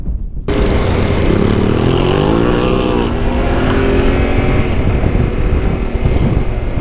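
KTM motorcycles pass close by, their engines rising in a loud, climbing roar that holds as a dense, steady drone after a brief quiet start.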